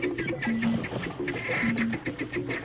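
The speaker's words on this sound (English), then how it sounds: "this wild cousin of a barnyard rooster who has wandered in from the jungle" Repeated short clucks and calls from a wild junglefowl, fairly close, over a busy outdoor background of other birds in an Indian forest.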